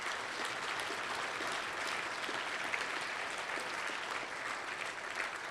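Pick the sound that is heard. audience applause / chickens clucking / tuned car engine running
audience applause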